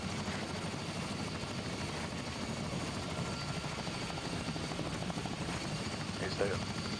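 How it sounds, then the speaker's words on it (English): Steady whirring helicopter rotor noise in the video game Arma throughout, a dense continuous drone with a faint voice mixed in. "Everybody get in the helicopter."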